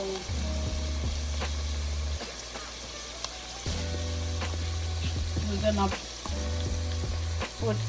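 Food fries and sizzles in a pan while Haitian black mushroom rice (diri djon djon) is made, the steady hiss broken by stirring clatter as someone speaks briefly.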